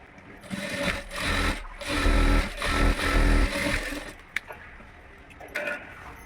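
A sewing machine stitching embroidered blouse fabric runs in steady bursts, loud and close, slowing and stopping partway through before a few light clicks.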